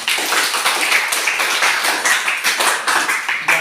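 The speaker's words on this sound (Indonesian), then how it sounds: "Kita berikan aplaus." A classroom of students applauds together, a brisk stream of crisp hand claps that keeps a steady, lively rhythm from start to finish.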